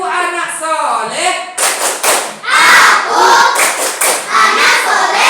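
A classroom of children clap a rhythmic pattern for a group chant, loud sharp claps mixed with unison shouting voices, following a teacher's spoken cue.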